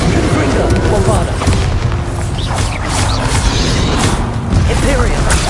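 Bombarda spell blast in the video game Hogwarts Legacy, dense loud rumbling explosions and crashing impacts that fill the whole stretch, with game sound effects layered on top and a voice talking over them.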